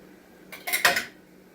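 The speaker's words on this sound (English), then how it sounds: "Don't do like I do and drop your lid into the food." A pot lid drops into a pot of simmering chicken Italiano, giving a short clatter of metal on cookware with a brief rattle that quickly dies away, close and alone.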